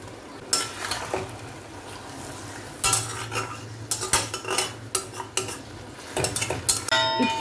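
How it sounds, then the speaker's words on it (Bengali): Spiced beans sautéing in a cooking pot, with a low steady sizzle under repeated scraping and clinking strokes of a metal spoon, close and fairly loud, with a brief ringing clink at the end. "এবার এটাকে একটু কষাবো মশলা ধোয়া জল একটু দিয়ে দিলাম"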